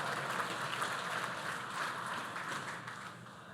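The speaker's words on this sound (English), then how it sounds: "Let's give a warm round of applause, please, for our finalists." Steady, dense clapping from an awards-ceremony audience at the Chicago Building Congress Merit Awards, a continuous even wash of applause that holds for several seconds without voices.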